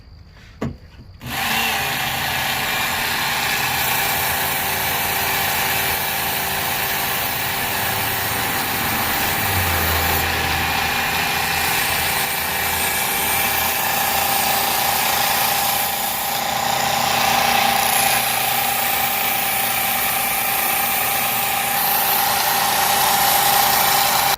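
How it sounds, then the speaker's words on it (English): A Work Sharp Outdoor sharpener grinds a serrated blade, a steady, loud mechanical whir and rasp running continuously after a brief start, with no talking. "I'm done sharpening it, which was 5 strokes on one side for a serrated blade"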